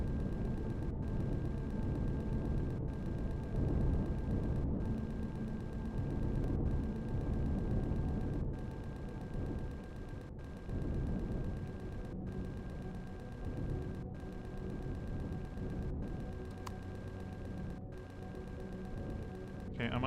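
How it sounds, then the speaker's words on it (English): Base turrets firing in the space game Empyrion Reforged Eden, a steady evenly spaced series of sharp shots roughly every second and a half over a low rumbling background. "My turrets seem very interested in shooting at it, but it doesn't seem to be doing much."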